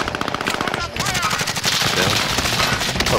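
Automatic gunfire erupts in a video game, with rapid, loud bursts of shots and dense overlapping volleys. It is heavy and close throughout, with a brief lull near the middle.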